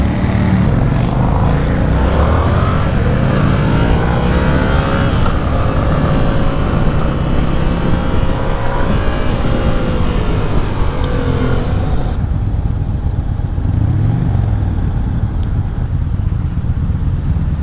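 A 2018 Yamaha MT-07 motorcycle being ridden, a loud continuous engine drone with wind rush, pitch rising and falling through gear changes, steady and close throughout.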